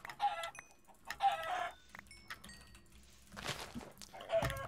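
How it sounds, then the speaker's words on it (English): Chickens clucking in a Minecraft-style UHC survival video game, several short bursts of clucks and squawks spread across the stretch, fairly close and heard alone with no talk. "Killing more chickens?"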